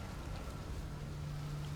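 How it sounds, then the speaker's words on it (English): Rain falls steadily in the video game Outer Wilds as a soft, even hiss under a low constant hum, with no talk. "It's a good thing I never get bored of rain, huh?"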